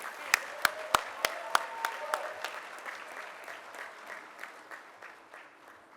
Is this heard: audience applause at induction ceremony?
yes